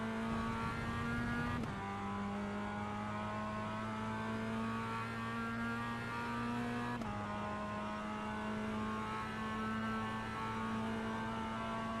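A Mazda MX5 race car's engine drones steady and loud from inside the cockpit during a Phillip Island practice session, holding a rising pitch that drops sharply at two gear changes and then climbs again.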